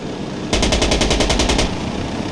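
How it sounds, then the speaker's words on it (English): In Insurgency Sandstorm, a called-in gunship attacks with a loud burst of about a dozen rapid cannon shots lasting roughly a second, framed by quieter game ambience before and after. "Here you can hear the gunship that we called in, coming in."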